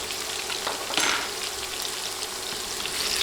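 Potatoes sizzle steadily in hot oil over a medium flame after a pinch of salt goes in, with a brief stirring scrape near the start, frying alone without talk.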